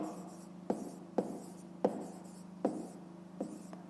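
Pen strokes on paper while a math answer is written out, a series of five or six short, distinct taps and scratches at a steady pace, close and quiet, with no talk.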